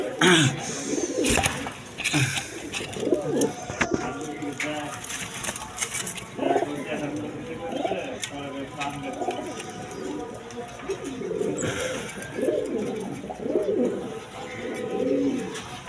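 Red Bombay pigeons cooing in a pigeon market, repeated throaty coos close by with occasional wing flutters, while someone talks over them at intervals.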